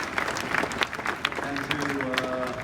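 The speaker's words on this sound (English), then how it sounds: "round of applause" An audience at a university talk with a guest speaker at ASU gives a short round of applause, light scattered clapping beneath a speaking voice and some crowd murmur.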